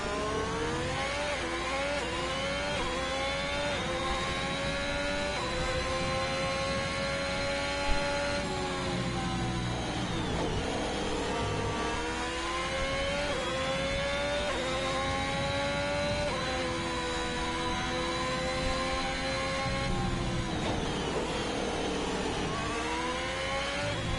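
Racing car engine in F1 2021 revving hard under throttle, a loud, continuous high-pitched whine that climbs and dips through repeated gear changes, alone and without voices.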